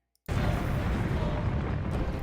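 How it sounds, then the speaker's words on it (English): A sudden explosion from a Nintendo video game trailer bursts in after near silence and holds as a loud, dense, rumbling roar that stays full and steady without talk. "And here's an explosion of some kind."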